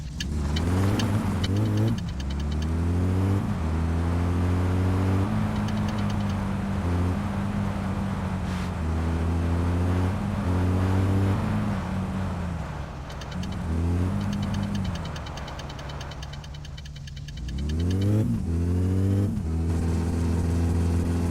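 A car in the driving game My Summer Car cruises along a road, its mid-pitched engine droning steadily with repeated rises and drops in pitch as it shifts and accelerates, loud and continuous with no talk.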